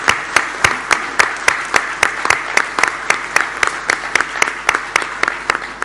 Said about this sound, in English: Big round of applause for the Guild